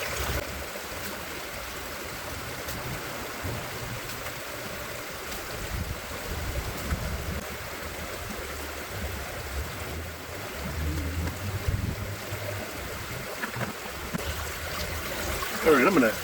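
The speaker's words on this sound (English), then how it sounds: "So I'm just going to run this sluice." Steady rushing and trickling of water flowing through a gold panning sluice outdoors in suburban Denver, a continuous broad wash that stays even for the whole stretch, with low rumbles underneath.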